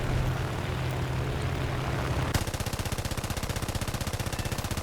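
Rapid aircraft machine-gun fire from a Boomerang Mk II fighter in War Thunder, starting after a stretch of engine roar and rattling on as a fast, even burst of shots to the end.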